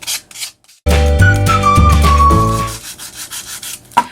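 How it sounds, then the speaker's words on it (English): A handheld finger sander works along the edges of a wooden piece, its motor buzzing in a steady, tonal burst for about two seconds after a quiet start before cutting off. "Let's use our finger sander here. You have more control with this finger sander."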